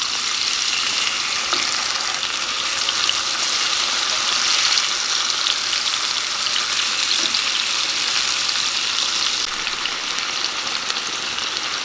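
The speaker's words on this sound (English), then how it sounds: "Here's our chicken already sizzling." Chicken sizzles steadily in a hot frying pan, a dense continuous crackle of hissing oil with no pauses.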